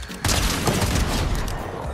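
A sniper weapon's explosion in the Fortnite video game hits with a sudden loud blast, then a dense, crackling burst of gunfire-like noise that stays busy to the end.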